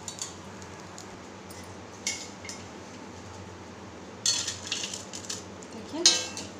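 Dry roasted poha flakes shift in a metal pan, with two short bursts of light rattling and clinking over a quiet kitchen background.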